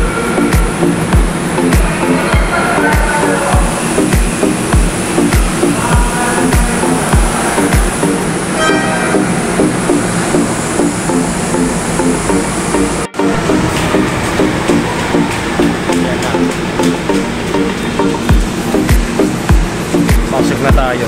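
An MRT train rolls into a station platform with loud, rhythmic clattering of wheels over rail joints and a constant mechanical rumble, close by and dominating, with a brief sharp jolt midway.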